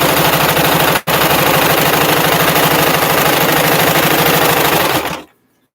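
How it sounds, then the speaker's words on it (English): A sewing machine stitches fabric for a face mask at full speed, giving a loud, close, rapid mechanical chatter that stops for a split second early on and then runs steadily for about five seconds before cutting off abruptly. "Put a pin through here and sew straight down."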